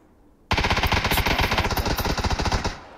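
Automatic gunfire in the video game PUBG begins abruptly as a loud, rapid burst of shots and keeps a steady rhythm for about two seconds before stopping.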